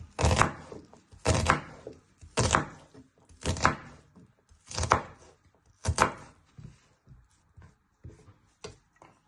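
A knife chops onion into little pieces on a board, about eight firm, evenly spaced cuts, close and distinct, with no talk.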